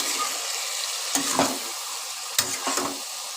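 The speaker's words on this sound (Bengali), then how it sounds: "সেগুলো আমি দিয়ে দিচ্ছি মশলার সাথে এবার ভালো করে সব একসঙ্গে কষাবো" Cauliflower and potatoes fry with spices in a pan for a Bengali dalna, giving a steady close sizzle broken by two pairs of scraping stirs.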